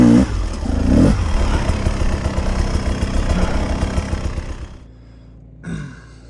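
A 2023 Beta 300 Race Edition motorcycle engine roars loudly and continuously with revving for several seconds, then drops abruptly to a low idle before one short blip of the throttle.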